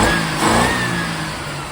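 A 1982 Dodge W150 4x4's slant six engine revs up briefly and then settles back, a loud, close, rough mid-pitched roar with no talking.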